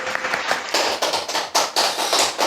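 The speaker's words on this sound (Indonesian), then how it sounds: "Tepuk tangan dulu." Audience clapping at a hospital event, a dense patter of hands close by that swells and ebbs in several short surges for a few seconds.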